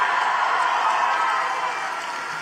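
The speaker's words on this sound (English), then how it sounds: "just listen to this great crowd" A large overflow crowd at a Bernie Sanders rally at the University of Wisconsin Parkside produces a dense, sustained roar of cheering and applause. It stays loud and continuous, easing off slightly toward the end.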